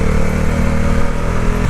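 A 2025 Bajaj Dominar 400 ride-by-wire motorcycle engine pulls hard under acceleration, a loud, close, steady mechanical drone with no speech over it.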